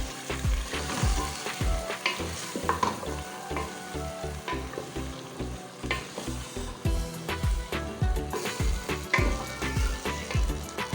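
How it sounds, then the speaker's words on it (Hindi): Chickpeas stirred into a sizzling masala for Lahori chana, with a steady frying hiss under rhythmic, close spoon scrapes and knocks against the pot, continuous and without talk. "हम इसमें डाल देंगे चने और अच्छे तरीके से इसको हम मिक्स कर लेंगे"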